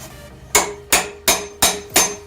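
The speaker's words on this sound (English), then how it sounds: "Take your hammer." Five sharp, ringing hammer blows on a motor flange while removing a Nissan 240SX engine, evenly spaced and close by.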